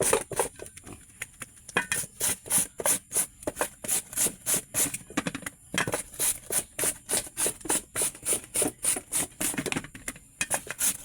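Papaya being grated by hand in a backyard: a steady series of rhythmic rasping strokes, about two per second, close and clear with short pauses between runs.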